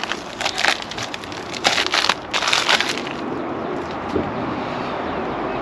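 Packaging being unwrapped from a chrome drink holder for a 2018 Goldwing motorcycle, heard as close crinkly crushing and rustling in bursts over the first three seconds, then quieter handling against a steady background hiss.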